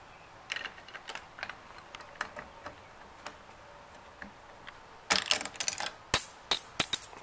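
Coins drop through a cleaned Congorilla arcade coin mechanism, giving scattered light clicks and ticks that turn into a louder burst of rattling metallic clatter near the end, close by and with no voices.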